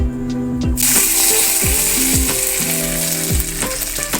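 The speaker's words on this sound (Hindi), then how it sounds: "ज़ीरा और साबुत लाल मिर्ची ऐड करके हमने इनको थोड़ी देर के लिए फ्राई कर लेना है" Cumin seeds and whole dried red chillies crackle and sizzle loudly in hot oil for a sambar tempering, a dense continuous frying hiss, with a few tonal clinks and scrapes mixed in, close up.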